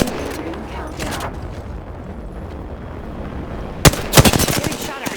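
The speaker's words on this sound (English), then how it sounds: "Getting shot at. Opening fire." Bursts of automatic gunfire ring out in the battle royale shooter Apex Legends: a short rattle at the start, then a quiet stretch of ambience before a loud, rapid volley near the end.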